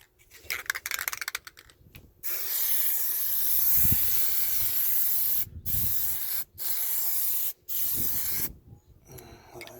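Plasti Dip spray can applying a second coat to a 2016 Dodge Dart SXT trunk outdoors: loud, close, steady hissing bursts, the first long and then three shorter ones separated by brief pauses.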